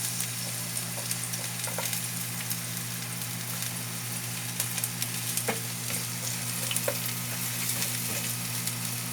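Garlic fries in about two tablespoons of oil in a pan, giving a steady, dense sizzle with occasional pops and crackles, close and constant over a low hum.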